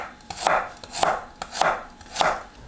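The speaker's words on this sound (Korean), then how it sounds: "그동안 마늘을 편으로 썰어주세요." A knife slices garlic cloves on a cutting board in four evenly spaced, crisp chops, close and clear with no talk.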